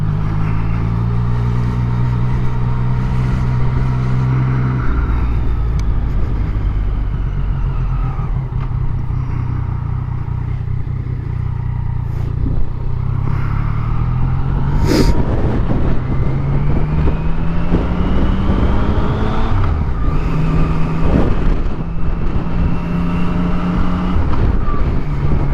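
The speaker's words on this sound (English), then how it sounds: "I get to ride out my motorbike" A motorbike ridden out toward Glen Maye and Dalby, its engine droning steadily and close throughout, with pitch rising and falling through gear changes and a brief sharp knock midway.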